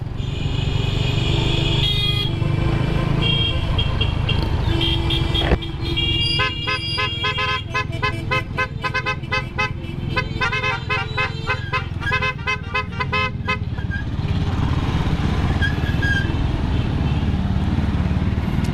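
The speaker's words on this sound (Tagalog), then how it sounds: "Traffic, traffic." Busy street traffic during a motorcade grand opening for a gas station in Umingan, Pangasinan, with cars and motorcycles droning loudly and close while horns toot in rapid repeated bursts through the middle.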